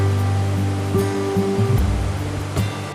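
Waterfalls in the Glen Creek gorge at Watkins Glen splash in a steady, dense rush of water, with a few low rumbling thuds and tones layered over the continuous roar.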